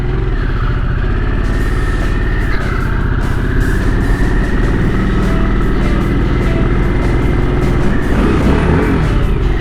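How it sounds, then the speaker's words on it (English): A 2023 Harley-Davidson Sportster S 1250cc motorcycle revs loud and close, its engine rumble rising and holding steady with wind noise throughout. "The kids wanted me to rev a little bit, so gotta keep everyone happy, right?"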